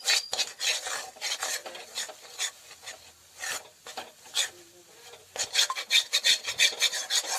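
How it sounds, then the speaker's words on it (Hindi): A spoon scrapes and rubs around a kadai while a cold-and-cough home remedy mixture is stirred, giving repeated rasping strokes in an uneven rhythm, close and fairly quiet, with no talk. "इसे हिलाते जाएं ताकि ये आपकी कढ़ाई के साथ ना चिपके।"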